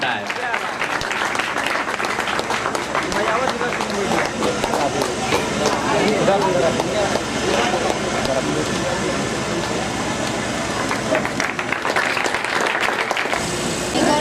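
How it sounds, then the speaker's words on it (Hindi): Audience clapping at a computer centre's annual function, a thick, continuous round of applause from a large crowd that holds steady before thinning out near the end. "तालियां बजाने में कंजूसी मत कीजिए"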